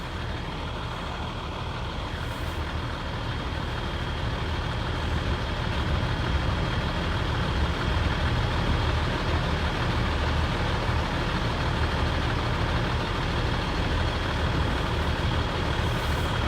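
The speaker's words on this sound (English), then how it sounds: "Fletchers Towing has hooked onto it now, and they're just about to start pulling at it now" A Fletchers Towing tow truck pulling a semi stuck under a Hegarty Road underpass, a steady heavy diesel rumble with broadband noise, loud and continuous, no talking.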